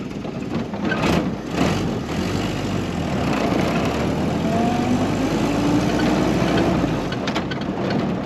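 A historic Ford Willys Jeep engine runs with a steady low rumble as the vehicle is driven, with gear noise and a few clunks near the start.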